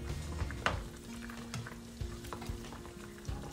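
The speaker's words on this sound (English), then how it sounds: "I'm going to leave the lid off and let it simmer until the sauce reduce." Sticky pork rib sauce simmers uncovered in a pot, giving a soft, steady bubbling sizzle with occasional utensil knocks and stirring scrapes, close and quiet, with no talk.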